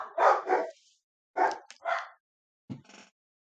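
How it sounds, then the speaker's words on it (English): Dogs bark in a few separate bursts: a quick double bark, a pause, two more barks, then a shorter final yip, fairly close and loud against otherwise quiet surroundings. "They're not going to stop barking."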